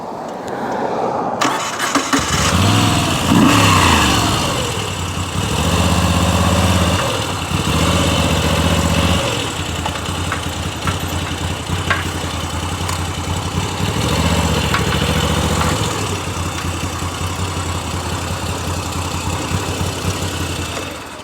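A motorcycle engine fires up and settles into an idle, with several rhythmic rising and falling revs early on before holding a steady, loud, close rumble with no talking.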